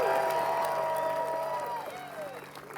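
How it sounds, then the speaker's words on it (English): Crowd applause at a disc golf world championship round, broad clapping that fades gradually while a tonal sweeping sound glides downward over it. "let's give a big round of applause to Nate Sexton!"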